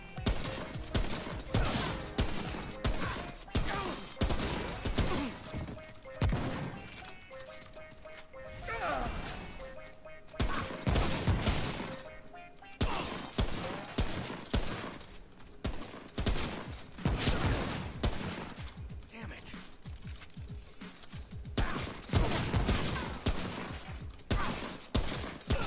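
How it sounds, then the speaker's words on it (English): Rapid, loud shotgun blasts from a coach gun in the video game Remnant: From the Ashes, repeated booming shots in quick bursts with crashing impacts throughout a chaotic fight. "He's using a coach gun."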